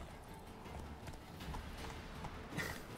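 A horse's hooves clip-clop steadily in the video game Witcher 3, a faint, even rhythm of footfalls over a low background hum.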